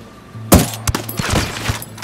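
Gunfire in the video game Ghost Recon Wildlands: a sharp, loud shot with a hard crack, followed by several quicker bursts of shots over about a second and a half.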